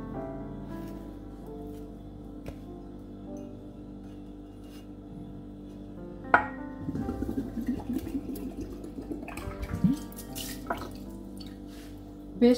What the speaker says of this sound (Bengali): ডাবটা আমি খুলে নিলাম, তো এটাকে এখন পানিগুলি আমি ঢেলে নিব।